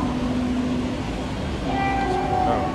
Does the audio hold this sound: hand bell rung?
no